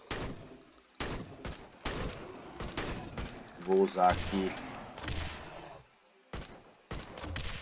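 Gunfire in the zombie shooter video game Left to Survive, a series of sharp, punchy shots spaced irregularly at moderate volume, with someone talking between them.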